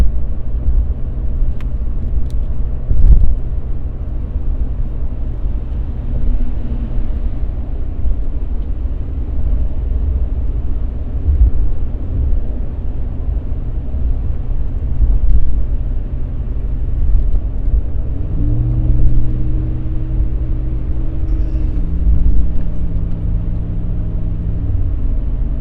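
A Ram 1500 pickup with a Borla S-Type exhaust cruises at 70 mph in eighth gear at low revs, giving a continuous deep cabin drone and road rumble with a brief tonal shift near the end, no talking.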